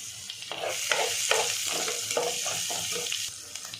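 Ginger garlic paste and green chilies sizzle in hot oil, crackling steadily with repeated bursts of stirring scrapes and spluttering throughout, close and fairly loud with no talking.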